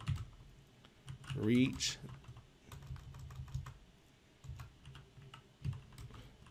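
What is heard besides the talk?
typing on a computer keyboard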